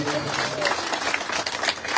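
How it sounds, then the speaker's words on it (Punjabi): An audience at a Congress political gathering claps, producing a dense, continuous patter of many hands that stays fairly loud and even for the whole two seconds. "ਇੱਕ ਵਾਰੀ ਤਾੜੀ ਜ਼ਰੂਰ ਮਾਰ ਦੇਣਾ"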